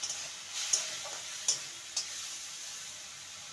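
Onion, ginger, garlic and tomato masala sizzles quietly in a pan as it is stirred, with a few sharp spatula clicks and scrapes against the pan standing out over a soft frying hiss; no voices.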